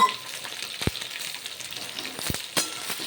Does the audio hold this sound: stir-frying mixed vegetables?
yes